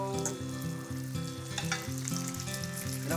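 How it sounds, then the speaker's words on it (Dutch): Albondigas fry in oil in a hot pan, giving a steady crackling sizzle that runs continuously beneath a melodic music track. "En dan gaan we er nog een aantal bruin laten bakken."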